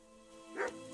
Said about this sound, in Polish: Mamy piesek.